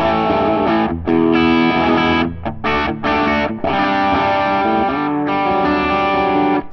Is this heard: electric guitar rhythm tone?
yes